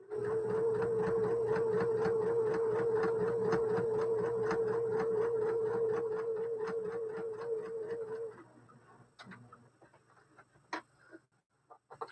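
A serger stitches jelly roll quilt fabric in a fast, even mechanical whir with rapid rhythmic needle clatter for about eight seconds, then stops, leaving scattered small clicks and handling noises.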